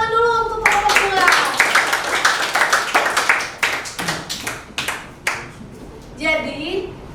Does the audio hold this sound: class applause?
yes